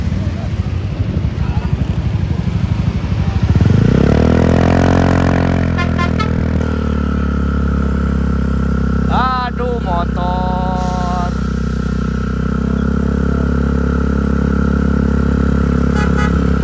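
A motorcycle engine hums and revs steadily, rising in pitch as it passes close by, with a brief horn-like tone and voices mixed in.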